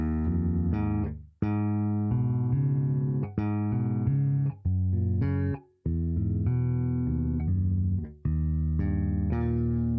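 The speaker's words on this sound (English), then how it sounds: "And then it goes to that major chord, which if I play up an octave" Sustained keyboard chords ring out one after another, each held for a second or two before the next, landing on a major chord played an octave higher, clear and close with no talking.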